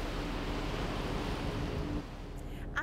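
Ocean waves at the coral atoll of Aldabra, a steady broad wash of surf that softens near the end, with no talk.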